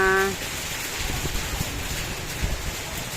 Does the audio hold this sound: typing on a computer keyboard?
no